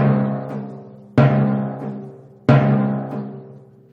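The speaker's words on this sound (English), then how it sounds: "So a good dampen should sound like this." Timpani drum struck three times and dampened at the striking spot, each deep booming stroke ringing briefly before being cut short, loud and close with no voices.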